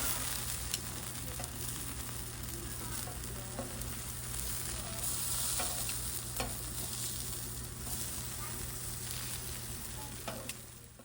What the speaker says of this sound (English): I'll raise the griddle temp to 475, 500 degrees, and begin to toss on the halibut